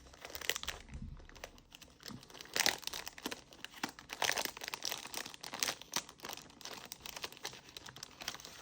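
Plastic wrapping of a cross-stitch kit crinkles and crackles as it is opened, with a steady run of close, moderately loud rustles and occasional tearing sounds and no talking.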